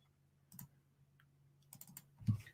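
A few scattered keystrokes on a computer keyboard while entering a localhost API URL, quiet clicks in small clusters with a firmer tap near the end, no voices.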